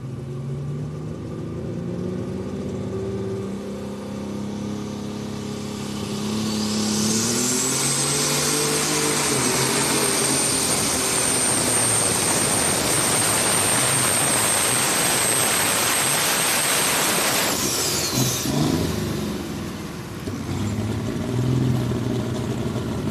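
John Deere pulling tractor, the Taking Care of Business entry, roaring down the track at a 4-H county fair tractor pull, a loud sustained engine blast with a high whine, rising then cutting off abruptly.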